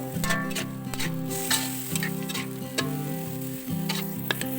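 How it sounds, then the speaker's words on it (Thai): Bean sprouts and tofu stir-fried fast with homemade oyster sauce crackle and sizzle in a pan, with scraping stirs, under a steady musical tone. "แล้วก็ใส่ซอสหอยนางรมที่เราทำเองค่ะ ขั้นตอนนี้อย่าช้านะคะต้องผัดให้เข้ากันอย่างเร็วๆไม่งั้นถั่วงอกเขาจะเหี่ยว"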